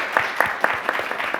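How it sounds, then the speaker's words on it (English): An audience at a lecture gives brief applause, an even patter of many hands clapping that stays at a moderate level with no other sounds. "nothing like complimenting the crowd to get a bit of applause"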